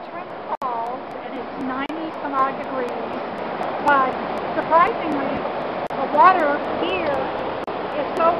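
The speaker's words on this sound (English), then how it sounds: "Rushing water." Water rushes steadily over a waterfall on West Canada Creek at Trenton Falls, a soft continuous wash heard alone, with scattered chirping bird calls above it.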